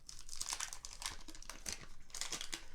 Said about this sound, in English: Gotta love the sound of old cards there, scraping together.